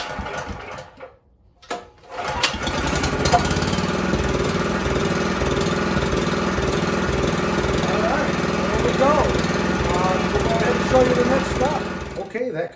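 A Coleman PowerMate 4000 generator with a Honda GX240 engine, running on propane, cranks with a few sputters and then settles into a loud, steady thrumming run. A voice speaks over the engine noise.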